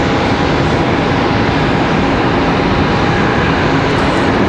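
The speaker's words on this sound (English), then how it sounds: "This one, Republic Airways, coming in from JFK." A Republic Airways airliner arrives from JFK at Charlotte Douglas International Airport, its engines making a loud, continuous broadband roar that holds steady throughout, with no voices audible.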